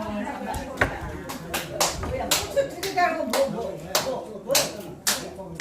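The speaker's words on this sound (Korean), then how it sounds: "근데 박수 쳐야 되네, 안 치시. 아이고, 마지막에 치시네, 마지막에." A small group of women at a community center singing class clap a few scattered, uneven times during a comic talk, sharp separate claps close by with someone talking between them.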